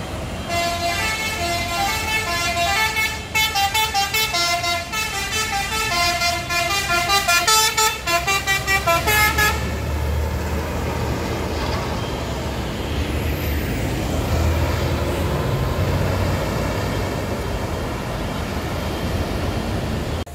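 A tanker truck on a busy road sounds a loud, repeated musical horn in rhythmic blasts, then the horn stops and a heavy engine rumble and traffic noise carry on.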